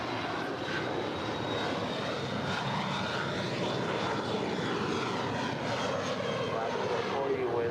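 Airliner taking off from runway 25 right at LAX, engines roaring steadily with a rising whine and a Doppler-like sweep, moderately distant, while a person talks over it.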